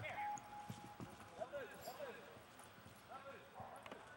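A horse gallops full out back across a cattle-working course at a Fort Klamath ranch event, its hoofbeats faint and rhythmic under a voice and distant arena noise.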